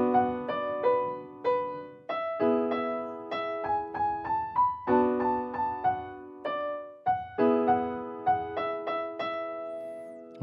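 Piano plays the closing part of a phrase, a bright run of distinct struck notes and chords in a steady rhythm, heard alone and clearly with no voice.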